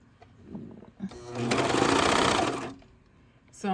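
Brother Cover Stitch 2340 CV sewing machine running a short burst of stitching, a fast whirring hum for about a second between quieter handling noises.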